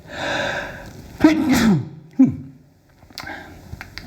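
A single loud, close sneeze with a sharp inhale before it, followed by a short breathy exhale and faint rustling.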